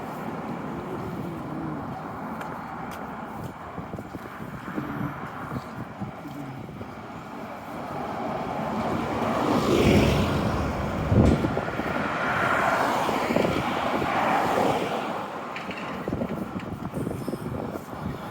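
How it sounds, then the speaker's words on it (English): Cars pass along a road on a hillside walk, a steady low hum swelling as a vehicle approaches and fades, with faint rushing tire noise near and far. "A little bit of road noise comes from the cars"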